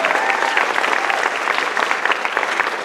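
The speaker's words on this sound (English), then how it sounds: "Let's give all of them a big round of applause so far." Dense, steady applause from a pageant audience at the Miss Harvest Homecoming show, many hands clapping at once in a continuous wash that stays loud and even throughout.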